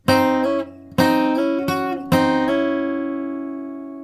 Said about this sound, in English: So it's actually 3 slide ups in a row.